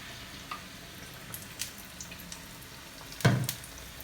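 Ripe Kerala nendran banana fritters, pazham pori or pazha bajji, fry in very hot oil with a faint steady sizzle, soft crackles and one louder clunk near the end.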